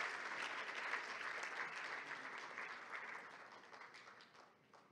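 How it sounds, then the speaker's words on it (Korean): An audience at an awards ceremony applauds with steady clapping that gradually fades toward the end. "뜨거운 박수 부탁드리겠습니다"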